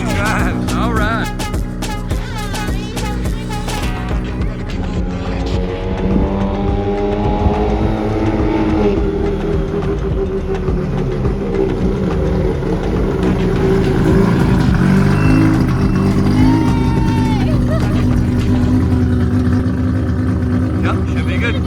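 A rotary-engined Nissan S15 drift car with a DCT gearbox drives close by, its engine droning and rising through gear changes throughout, with people talking over the loud engine noise.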